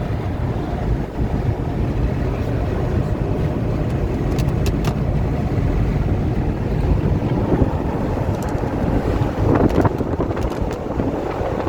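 Strong, gusty wind roars steadily and loudly past the microphone in an open area near coconut trees and water. The buffeting hiss and rumble never lets up, and no one speaks.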